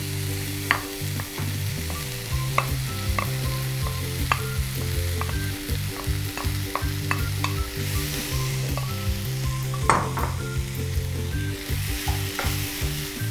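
Boiled, roughly mashed potatoes with some chunks left in are tipped into a sizzling pan for Karnataka-style saagu. Steady frying hiss runs throughout, with repeated scraping stirs and clinks of a spoon against the pan; no one talks.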